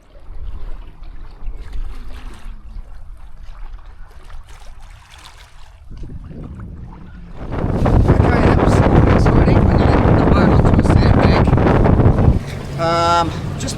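Sailboat cruising under headsail alone on Moreton Bay in a 15-knot westerly: wind buffeting and water rushing past the hull, quieter at first, then a loud surge of wind and water noise, with a brief tonal sound near the end.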